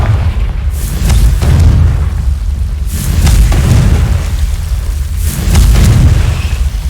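Heavy booming blasts from the Confringo blasting curse in Hogwarts Legacy, three loud explosions spaced a couple of seconds apart, each with a sharp crack and a long rumbling tail.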